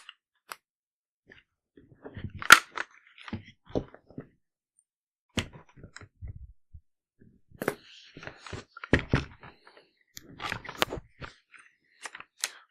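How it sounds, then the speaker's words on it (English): Rear takedown pins pushed out of a Masada rifle so the receiver can open, close and quiet: scattered small metallic clicks, taps and scrapes with short silences between them. "we're going to push out the pins in the rear"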